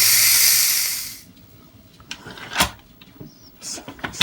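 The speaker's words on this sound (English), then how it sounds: "I'm going to hit the cancel button and I'm going to release the pressure." A GeekChef electric pressure cooker vents steam in a loud, rushing hiss that cuts off after about a second, followed by scattered light knocks and clunks close by.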